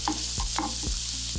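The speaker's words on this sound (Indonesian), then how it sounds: "Cukup sekadar goreng sampai lembut aja" Onions frying in a pan while being stirred, a steady close sizzle broken by several scraping stir strokes, with no talking.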